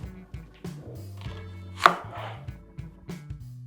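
Knife thinly slicing onion on a cutting board, a few sharp close cuts standing out over a sustained low tonal hum, with no talking.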